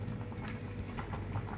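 A crowded pot of sinigang soup loaded with vegetables such as radish boils, giving a dense, continuous bubbling and gurgling at close range.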